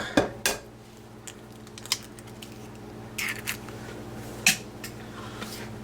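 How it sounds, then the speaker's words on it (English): Eggs and milk being beaten in a bowl for a wartime Woolton pie make light, irregular clinks and taps of a utensil against the dish over a steady low hum. "And we beat that until it's nice and smooth."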